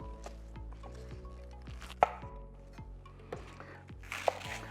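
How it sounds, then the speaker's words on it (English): A knife cuts baby bok choy on a board in a kitchen, a handful of separate close chops and crisp taps spaced irregularly, with a sharper knock here and there, alone without talk. "I'm going to just cut this one a little bit so it's somewhat similar in size to the rest"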